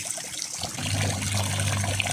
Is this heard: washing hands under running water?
yes